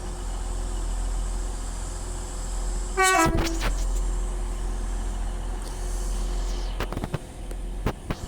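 Class 801 train 801 101 sounds a brief two-tone horn while departing Doncaster station, loud and clear over a low rumble of idling rail traffic, with a few sharp clanks afterward.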